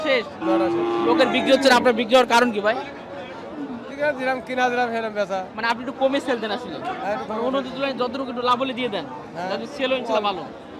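At the Satmail livestock market, where bulls and calves are sold, cattle moo amid loud nearby talk and crowd chatter, calls rising repeatedly through the busy din.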